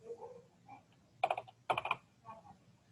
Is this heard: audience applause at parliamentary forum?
no